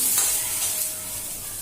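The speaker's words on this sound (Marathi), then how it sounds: "हे बघा स्लो गॅसवर आपण भाज्या चांगल्या शिजवतोय" Vegetables cooking in a pan over low gas for chicken manchow soup, a steady close sizzle with soft hissing and faint stirring, no talking.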